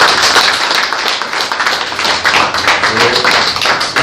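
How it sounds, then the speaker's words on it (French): A crowd of attendees applauds at a French-speaking campaign celebration, a dense, steady wash of many hands clapping loudly and continuously with scattered sharper claps throughout. "Nous voudrions vous inviter à vous applaudir vous-même pour la réussite de la campagne"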